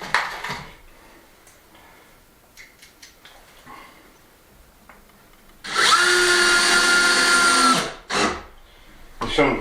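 A power drill drives 30mm screws into floorboards during an old hay loft renovation, one loud sustained whirring burst of about two seconds followed by a short second burst, after quieter handling noises.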